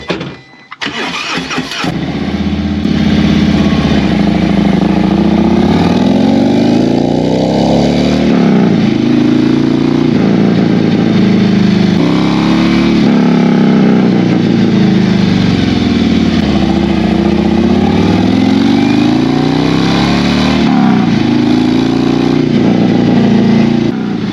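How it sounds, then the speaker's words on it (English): A 2023 Harley-Davidson Road Glide fitted with a Bassani Superbike mid-length pipe starts up and runs loud and close, a deep rumbling idle with repeated throttle blips that swell and fall in a slow rhythm. "Well, the install's done. The bike's running great."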